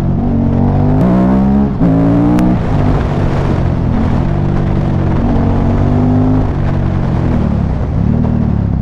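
A 2005 KTM 950 SM supermoto motorcycle engine while riding, loud and close, its pitch rising and falling repeatedly through gear changes with a throbbing twin-cylinder drone.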